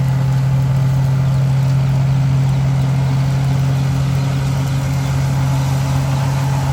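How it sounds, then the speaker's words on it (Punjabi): A tractor engine runs at about 1400 to 1500 rpm during straw chaff work, giving a loud, unbroken low drone with a steady hum throughout and no speech. "ਆਵਾਜ਼ ਨਹੀਂ ਬਲਦੀ ਟਰੈਕਟਰ ਦੀ"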